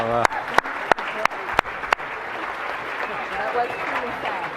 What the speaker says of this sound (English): let's put them out of their pain and give them a round of applause